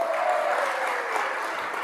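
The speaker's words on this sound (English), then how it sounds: "give them a boisterous applause" Crowd applauding at the Columbus Pride lighting ceremony, a brief continuous burst of clapping at moderate loudness with no voices over it.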